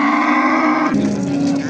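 A cow at a busy livestock market in Shahrixon, Andijon, gives a sustained, tonal moo that shifts pitch partway through, heard close and fairly loud against steady market background noise.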